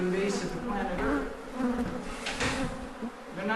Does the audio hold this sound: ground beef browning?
no